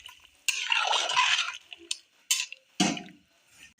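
A spoon stirs rice in a cooking pot, making scraping, clattering strokes in a few distinct bursts, close and fairly loud with no talking.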